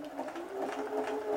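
A sewing machine stitches zigzag around a hole in the knee of worn jeans, running with a steady, fast mechanical hum and rhythmic needle pulses, close and fairly quiet.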